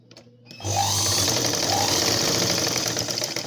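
A sewing machine runs steadily while stitching a blouse, starting up after a short quiet moment and then whirring loud and continuous close by, with the rapid needle rhythm holding to the end.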